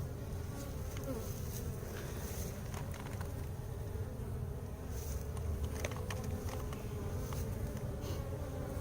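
Dense, continuous buzzing of many honeybees at a decade-old hive built inside a concrete block wall, loud and close throughout, with swelling intensity as more bees emerge.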